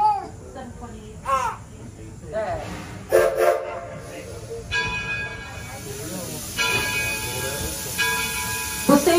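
Riding the Edison train to Smith Creek Station, repeated whistle or horn blasts sound over a steady rolling rumble, with people talking throughout.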